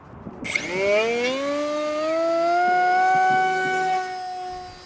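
Durafly Rare Bear Reno Racer 680mm RC plane on a 6S pack, its electric motor whining up at launch into a loud, steady rising tone with a few clicks at the start, then holding near and strong before easing off.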